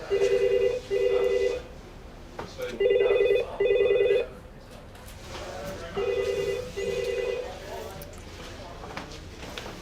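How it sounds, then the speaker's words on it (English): A hotel telephone rings unanswered in bursts of two trilling electronic rings, repeating three times, fairly loud and close, while someone talks in the room around it. "and no one in here to answer the phone"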